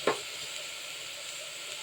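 Soaked green gram is tipped into a hot frying pan, starting with a brief clatter and settling into a soft, steady sizzle.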